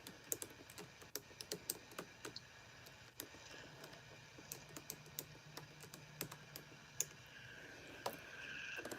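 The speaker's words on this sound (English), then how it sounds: "I'm trying to type." Steady typing on a computer keyboard, rapid uneven key clicks throughout at a modest close level over faint background hiss, with no talking.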